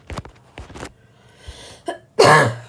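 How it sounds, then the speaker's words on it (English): A sharp, loud cough bursts out near the end, after a few quieter throaty sounds and scattered noises. "that's an awful timing cough"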